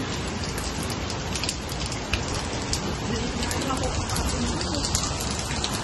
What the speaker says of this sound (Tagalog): Lakas na ulan, oh.